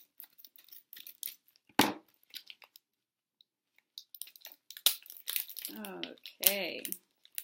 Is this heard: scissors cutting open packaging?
yes